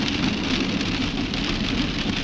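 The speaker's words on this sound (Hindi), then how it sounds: "तो काफी लो है इस वक्त क्लाउड, इस कारण से बारिश हो रहा है।" Monsoon rain falls steadily under low, overcast cloud in the Kinnaur mountains, a loud close hiss of drops pattering on surfaces, continuous and even, with no voices.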